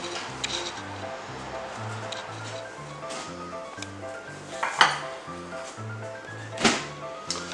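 A baking tray of Parmesan-topped stuffed tomatoes comes out of the oven with clinks and metallic knocks, two sharper clanks standing out over soft background hum and a faint sizzle.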